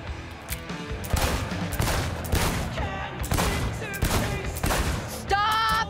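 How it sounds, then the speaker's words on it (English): Gunfire at a shooting range in the Cyberpunk 2077 video game, a rapid string of sharp repeated shots in quick bursts, loud and close, steady through the whole stretch. "Just don't go past the line when shooting"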